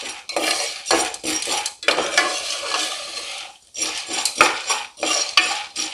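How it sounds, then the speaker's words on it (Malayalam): Popcorn kernels stirred in oil inside a pressure cooker, giving steady metallic scraping and clinking of a spoon against the pot, continuous and close with brief pauses. "പോപ്കോൺ ഏകദേശം പൊട്ടാൻ തുടങ്ങുന്ന സമയം വരെ നമ്മൾ ഇതുപോലെ ഒന്ന് ഇളക്കി കൊടുക്കണം."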